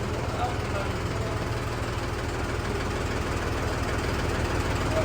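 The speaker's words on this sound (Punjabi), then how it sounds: "ਇਹ ਤੇਰਾ ਟਰੈਕਟਰ ਹੈ ਇਹ ਠੀਕ ਹੈ" A new Mahindra 265 XP Plus tractor engine idles steadily, giving off a continuous low, throbbing rumble with an even mechanical knock that holds at a constant level throughout.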